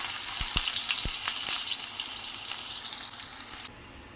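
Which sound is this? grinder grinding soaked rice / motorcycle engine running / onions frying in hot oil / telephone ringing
onions frying in hot oil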